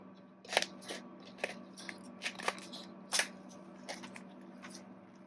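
Scissors cutting along the bottom of a plastic comic book bag: a quiet series of crisp, irregular snips and crinkles, close and isolated with no talking.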